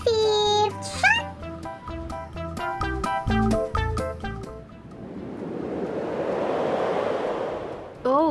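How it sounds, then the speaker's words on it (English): Wind and surf at a beach, a steady rushing wash of waves building through the second half after a stretch of tonal music-like sounds. "it's super windy down here in the beach"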